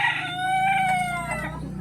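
A single chicken gives a loud, close, drawn-out cackling call over a steady low hum.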